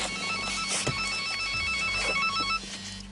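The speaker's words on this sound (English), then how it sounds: "The warden takes a phone call he did not want." A game warden's telephone rings with a steady electronic tone that repeats without a break over a constant background rumble.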